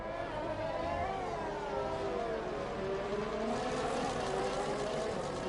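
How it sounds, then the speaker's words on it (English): Odd whirring race car engines in a racing video game, steady droning tones rising and falling as cars pass, with a commentator talking over the top. "Yeah, strange sounding engine noises there."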